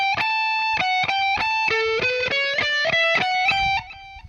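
Electric guitar plays the chorus riff of a song, a run of sustained, bright distorted notes picked one after another in a steady melodic line, close and alone, ringing out before fading near the end.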